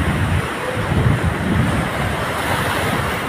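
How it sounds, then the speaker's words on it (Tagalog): Strong ocean waves roll in at Dahican beach in Mati, a loud, steady roar of surf mixed with wind buffeting the microphone, close and continuous with no speech. "Makapunta dito sa malalakas na mga alon."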